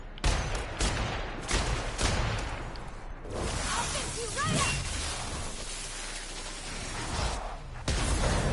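Repeated gunfire from weapons in the video game The Outer Worlds, with sharp bursts and volleys spread across the clip, loud and close, with whooshes and crashes mixed in.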